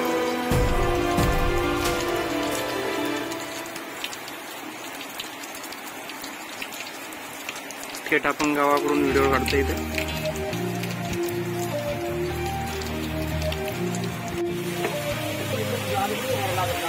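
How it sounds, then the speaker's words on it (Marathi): Heavy rain pours down on a village road in Karjat, a dense steady hiss of drops hitting the ground throughout, with someone talking over it partway through. "परत एकदा जोरात पावसाची सुरुवात"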